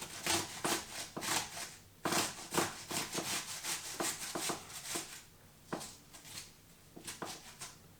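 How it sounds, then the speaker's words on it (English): Cucumber rubbed down a coarse grater in repeated rasping strokes, close and fairly loud with a steady back-and-forth rhythm and short pauses between passes. "is grate this on a coarse grater."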